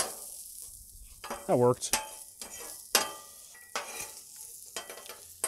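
Seasoned food with oil, fresh ground pepper and salt mixed on a griddle for chicken teriyaki, a few sharp scrapes and clanks of a spatula over a light sizzle, with a brief spoken remark.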